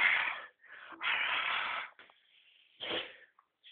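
A few breathy, hissing sneeze-like bursts, close and moderately loud, separated by short pauses.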